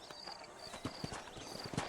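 Saddled horses trot in Red Dead Redemption, hooves clip-clopping in a steady, fairly close rhythm of distinct thuds, faint and with no talk.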